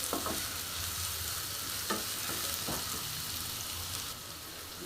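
Onions frying in a pan while cauliflower sabzi is being prepared: a steady, fairly quiet sizzle runs throughout, broken by a few soft spoon-stirring scrapes. No one speaks.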